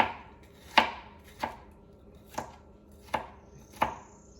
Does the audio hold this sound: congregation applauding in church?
no